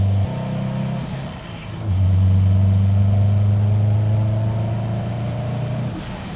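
A Subaru WRX STI tuned to about 600 horsepower with a big clutch revs at close range, the engine note climbing in a throttle blip, holding a loud steady drone, then dropping back toward idle.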